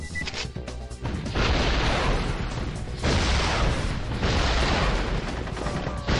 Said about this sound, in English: And I managed to blow up everything but what I wanted to blow up.